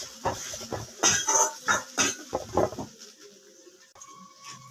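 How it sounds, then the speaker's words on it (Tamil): Raw turmeric and garlic pounded for a fish curry, heard as a quick run of sharp, close knocks in an irregular rhythm that stop after about three seconds, leaving a quiet background. "பச்சை மஞ்சள் இடிச்சுக்கலாம்."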